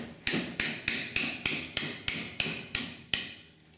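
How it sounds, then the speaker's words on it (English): A hammer taps a part onto a small handmade windmill model, about ten sharp, evenly spaced knocks, close and clear with short ringing decays and no talking. "Maybe you have to use a hammer."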